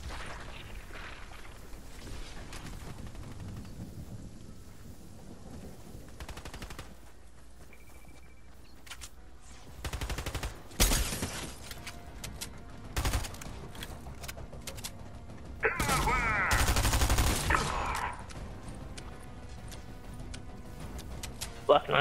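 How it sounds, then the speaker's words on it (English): Gunfire in the video game Fortnite during a duos match, with scattered bursts and a louder sustained volley late on, heard under game ambience and players talking. "Being shot at."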